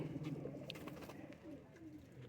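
Ali wale pigeons for sale coo steadily and close by, low rolling calls repeating through the whole stretch with no talk over them.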